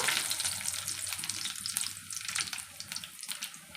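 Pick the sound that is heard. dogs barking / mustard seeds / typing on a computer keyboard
mustard seeds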